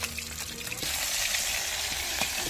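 Oil heating in a pan over an outdoor clay stove in a courtyard, ready for Bengali fish curry, gives a soft, steady sizzle and hiss close by, rising slightly partway through.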